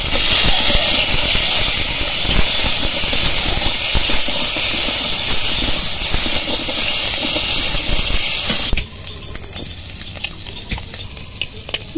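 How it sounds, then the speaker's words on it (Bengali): Peeled boiled eggs fry in hot oil in a pan, giving a loud, continuous hissing sizzle that suddenly drops to a quieter crackle near the end. "এই আমি তেল দিয়ে দিয়েছি, দিয়ে এবার ডিমগুলো ভেজে নেব।"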